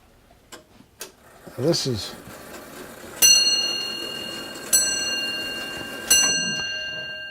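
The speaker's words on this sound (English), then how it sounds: "That's pretty typical of a bell strike type grandfather of 200 years ago" An old English bell-strike grandfather clock about 200 years old, with a few soft ticks and a brief voice, then three loud ringing bell strikes roughly 1.5 seconds apart, each decaying slowly.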